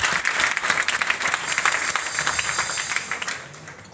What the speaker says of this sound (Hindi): जरा एडी वड्डी क्लैप करे, कंपनी तक आवाज आए